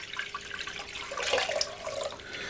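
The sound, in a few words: lukewarm water poured into a bowl for dough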